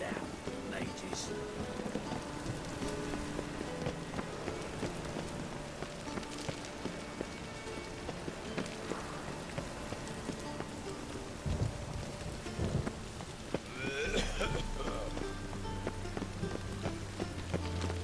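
Rain pours steadily in the video game The Witcher 3, a constant hiss of drops on surfaces with occasional low thunder rolls and a deeper rumble near the end, continuous and at an even level throughout.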